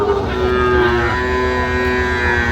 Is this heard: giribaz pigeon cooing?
no